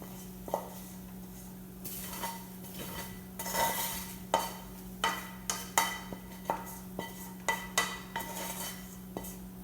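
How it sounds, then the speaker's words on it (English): Food for vegetarian meatballs is scraped from a skillet into a mixing bowl: a string of clinks and knocks of metal utensil on cookware, some clattering louder than others, over a steady electrical hum in a quiet kitchen. "So I'm just gonna put that in the mixing bowl and then put this skillet aside."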